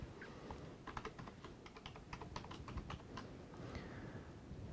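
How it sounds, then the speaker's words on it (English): Soft keystrokes as a password is typed on a computer keyboard, a quick burst of taps heard faintly over a low background hum. "I have to type in the password as well."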